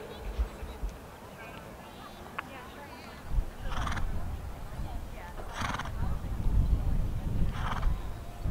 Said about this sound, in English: Riders in the ring, please walk your horses.